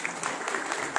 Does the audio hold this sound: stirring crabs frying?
no